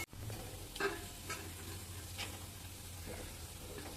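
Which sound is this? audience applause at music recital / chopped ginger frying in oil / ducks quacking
chopped ginger frying in oil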